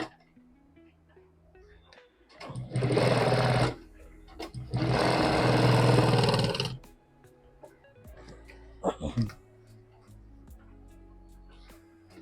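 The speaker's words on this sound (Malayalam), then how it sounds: "എന്തായാലും നമ്മൾ സ്റ്റിച്ച് ചെയ്ത് നോക്കാം എങ്ങനെ ഉണ്ടെന്ന് ഒന്ന് കാണാമല്ലോ" A sewing machine stitches a zip onto a handmade bag in two loud, steady runs of rapid whirring, with quieter pauses and handling noises between them.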